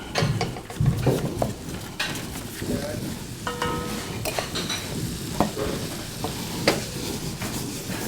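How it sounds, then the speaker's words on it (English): Cheese, spinach, mushroom and maple mixture going into a skillet, with soft sizzling and stirring clatter of a utensil against the pan, close by and steady, with occasional clinks. "with the cheese in it and the spinach and the mushrooms and the maple, and I'll add it right to a skillet."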